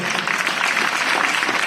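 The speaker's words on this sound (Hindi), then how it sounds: "ताली बजाए।" An audience at a Diwali fancy-dress distribution ceremony in Pushkar claps steadily, a dense, even wash of applause filling the whole moment.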